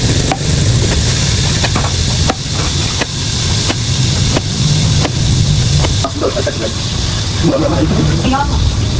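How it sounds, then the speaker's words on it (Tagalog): Fish frying in a pan gives a steady, loud sizzle throughout, with a few sharp knocks and utensil clatters on top, and people talk over it near the end. "Habang ako po nagpiprito ng isda"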